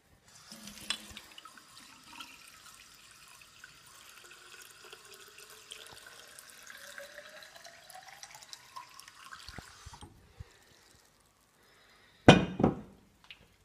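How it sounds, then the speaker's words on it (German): A bottle being filled with water from a kitchen tap gives a thin, continuous stream whose pitch slowly rises as it fills, then stops and is followed by a short, louder clunk near the end. "und dann fülle ich die Flasche mit Wasser auf."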